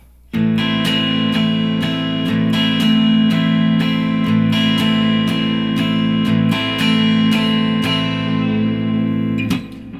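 Guitar chords are strummed over and over in a steady rhythm, bright and close, each strum ringing into the next.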